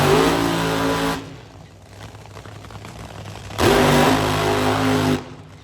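Two 11,000-horsepower nitro-burning Top Fuel dragsters roar at Brainerd International Raceway during the Lucas Oil Nationals, in two loud, harsh engine bursts separated by a quieter gap, with no talking.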